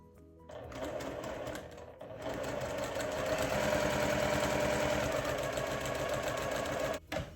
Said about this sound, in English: And stitch on the diagonal and trim away.